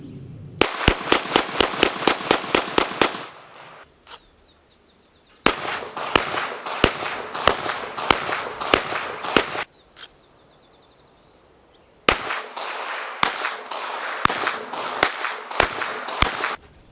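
Handgun shots fired at targets from various distances on a range: rapid strings of sharp, loud cracks in three volleys, each broken by pauses, with a few isolated shots between bursts.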